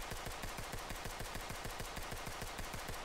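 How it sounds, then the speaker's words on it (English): A P90 submachine gun fires in the tactical shooter game Ready or Not, one rapid sustained burst of evenly spaced shots at a fast steady rhythm, close and fairly quiet, no speech. "And the fire rate is not what we would expect from a P90"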